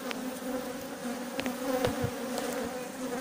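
Honey bees buzz steadily and close around an open hive during a frame inspection, a dense droning hum with a few louder individual insects passing near.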